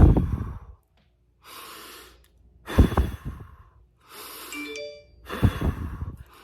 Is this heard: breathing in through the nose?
yes